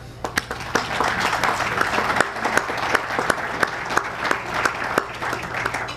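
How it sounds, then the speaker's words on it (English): Applause rings out at a security services awards ceremony, a full room clapping steadily with distinct sharp claps standing out near the front, over a faint low hum. "Please applaud Constable Frank."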